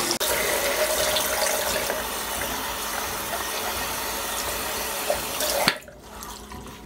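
Cold tap water runs steadily and loudly into a sink to soak a pillowcase, a continuous gushing rush that stops abruptly near the end.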